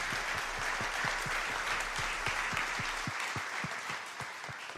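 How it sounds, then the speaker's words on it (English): A crowd at an awards ceremony claps steadily, many hands applauding together with a few sharper individual claps standing out, fairly distant and continuous throughout. "let's give a round of applause to Ms. Miriana."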